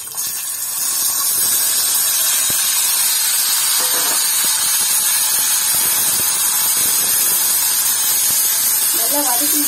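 Bitter gourd (athalakkai) sautéing with curry leaves in a hot pan gives a loud, continuous hissing sizzle that swells in the first second and holds steady, with a few faint taps of a spoon.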